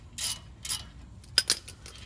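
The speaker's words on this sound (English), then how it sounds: "take these two bolts off and I just slide the caliper" A ratchet working the two bolts off a brake caliper during a brake pad job gives a few short metallic clicking bursts, close and fairly loud, with brief gaps between them.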